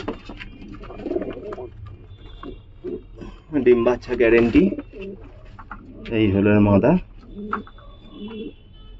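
Giribaz pigeons coo softly in the background while someone talks over them almost throughout, with a few louder bursts of sound mixed in.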